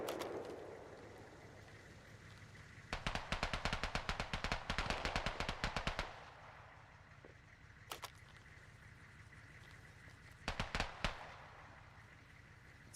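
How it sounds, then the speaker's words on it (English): AK rifle gunfire in Arma Reforger, heard at a distance as a rapid burst of sharp cracks lasting a few seconds, followed by isolated shots and a short second burst later on, over low ambient hum. "Sounds like an AK."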